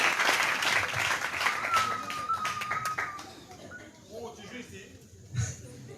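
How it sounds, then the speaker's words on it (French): A church congregation bursts into loud applause and cheering, dense clapping at first that gradually thins and fades, with a sharp whistle-like cry and a voice rising near the end. "Est-ce que tu peux acclamer?"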